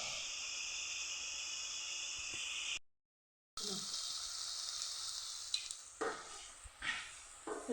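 Onion and chicken fry in oil on a gas stove with a steady, close hiss and sizzle that cuts out briefly, then returns with scattered clattering and stirring knocks.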